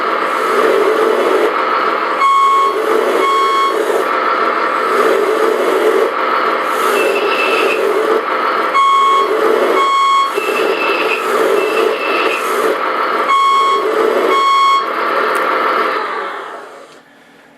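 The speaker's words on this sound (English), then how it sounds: "I think the backing beeper is a little too loud in relation to the other sound." Sound module in a 1/14 RC hydraulic bulldozer playing engine rumble from a small speaker, with a loud repeating backing beeper pulsing over it before cutting off at the end.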